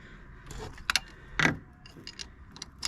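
A ratchet wrench turns a replacement glow plug into the engine of an Audi TT 2.0 TDI. It gives a few quick, close metallic clicks and rattles in short irregular bursts.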